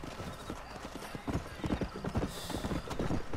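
Horse hooves clip-clop steadily in Red Dead Redemption, a dense, close run of sharp knocks with a brief whinny mixed in, filling the whole stretch without speech.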